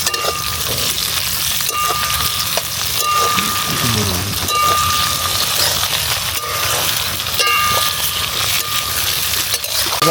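Potatoes with chopped chilli tossed and stir-fried in a pan for Bengali bhuna khichuri, a dense continuous sizzle with scraping stirs, loud and close throughout, with no one speaking.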